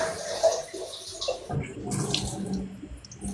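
Water pours and splashes over a person's shaved head, an uneven run of close splashing and trickling that thickens in the second half.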